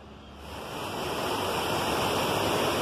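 A small waterfall on the Paranapanema river by a town bridge, running low on water, gives a constant close rushing hiss that swells slightly at the start and then holds steady.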